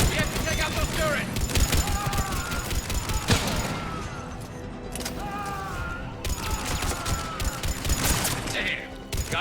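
Cerberus turrets fire in Mass Effect 3 as steady rattling bursts of automatic gunfire, with shouted combat voices and mechanical clatter mixed in throughout.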